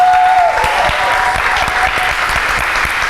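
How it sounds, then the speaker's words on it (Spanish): An audience applauds for Fresi Ortega at a memorial gathering for Pedro García Blanco. The clapping is dense and steady, loud and close, with a faint tone at the start and no voices over it. "un aplauso para Fresi Ortega"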